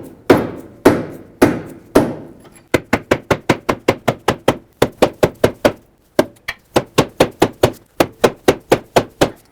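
Rear lower forward control arm on a 2010-2017 Chevrolet Equinox being tapped into place with a 3/8 extension: a long, steady series of loud, sharp knocks, a few slower hits first, then rapid regular blows.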